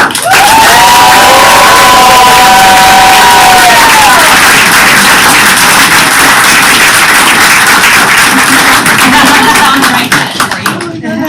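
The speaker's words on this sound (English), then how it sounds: "Please offer a round of applause" Audience at a school district board meeting breaks into loud, sustained applause and cheering with whoops and shouts, filling the room for about ten seconds before it tapers off at the end.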